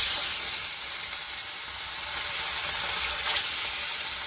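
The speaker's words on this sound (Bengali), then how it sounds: "মাছগুলো বেছে নিয়েছি, এবারে নুন হলুদ মাখিয়ে ভেজে নিচ্ছি" Fish coated in salt and turmeric frying in hot oil gives a loud, constant hiss and sizzle close by, steady for the whole stretch with no talking.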